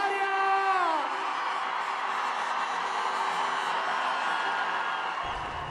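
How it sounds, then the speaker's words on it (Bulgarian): A large arena crowd cheers and applauds for the Bulgarian team, known as the Pearls, with loud whoops and high yells at the start, then a sustained wash of cheering that cuts off abruptly at the end. "Моля вас се силно аплодисменти за отборната България!"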